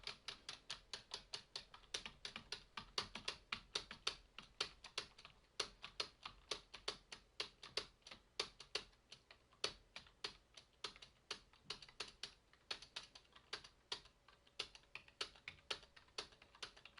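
Continuous typing on a cheap Logitech K120 computer keyboard, rapid clattering keystrokes in steady bursts, close and clear, with no talking.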